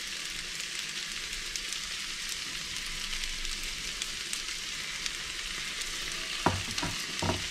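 Pasta and beans sizzle steadily in a hot pan for pasta e fagioli, with a continuous frying hiss and a few scraping stirs near the end.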